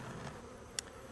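Honeybees buzz steadily right beside their hive box, a soft continuous drone with a brief louder pass from a bee flying close.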